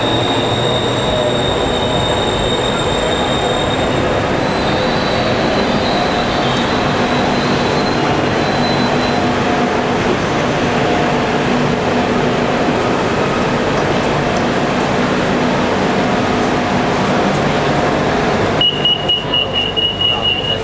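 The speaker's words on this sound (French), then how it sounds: "Ah oui, un métro qui continue entièrement." A subway metro train in Thailand, with open walk-through cars and no separation between wagons, rumbles along steadily and loudly throughout, with faint high wheel squeal and a brief tonal chime near the end.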